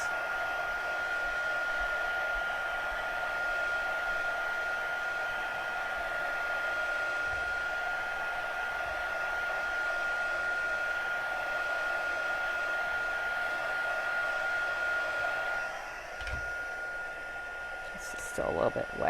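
Hair dryer running steadily over watercolor paper, a loud continuous whirring blow close by that holds nearly unchanged for the whole stretch before dropping slightly near the end.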